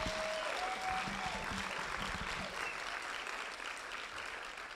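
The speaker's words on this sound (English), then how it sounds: "can we just have a round of applause for that?" Audience applause for first-time speakers at a public safety event, a soft, steady patter of clapping from a room that fades slightly toward the end, with a faint tone in the background early on.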